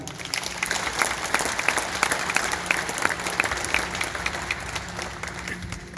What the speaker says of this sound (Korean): 다시 한번 뜨거운 박수 보내주시기 바랍니다